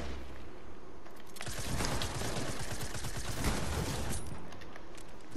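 Rapid bursts of automatic gunfire from a Fortnite Battle Royale match crackle continuously at close range, dense and loud for several seconds with mechanical clatter mixed in.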